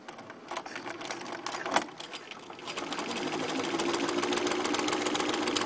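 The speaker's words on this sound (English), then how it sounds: "Put your foot down, and you can begin sewing." A sewing machine with an invisible zipper foot stitches a zipper into a dress, starting with a few slow, uneven clicks before settling into a rapid steady whir that grows louder and stays close.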